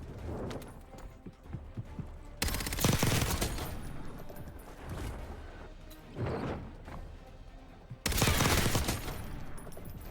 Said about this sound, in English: Oh my god, stop shooting for a second.